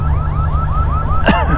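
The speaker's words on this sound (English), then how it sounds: "Someone's alarm went off" An alarm goes off outdoors during a fishing session, a repeating rising electronic chirp cycling several times a second over a low steady rumble, fairly loud and continuous, with no talking.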